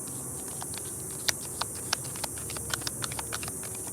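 A deck of cards is shuffled by hand, giving a run of soft, irregular riffling clicks and taps over a steady background hiss.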